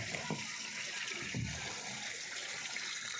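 Water being poured out to lower its level, a steady wash of splashing and trickling that runs the whole stretch at moderate loudness, with a couple of brief low knocks.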